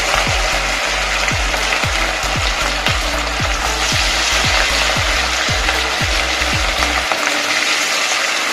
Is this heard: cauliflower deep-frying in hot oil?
yes